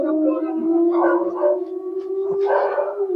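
Dogs howl in a long, steady wail with a few rougher yelps and barks breaking in, loud and close, continuing throughout.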